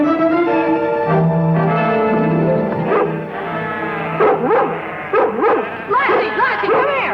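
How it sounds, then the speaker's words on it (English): Lassie, a collie, yips and barks in short repeated bursts in the latter half, close and loud, with a voice and background music. "Get that crazy dog out of here."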